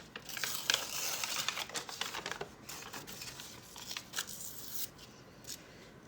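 Paper tearing across a planner page, a close, continuous rough ripping and crinkling that holds steady for several seconds, fading slightly toward the end, with no voices.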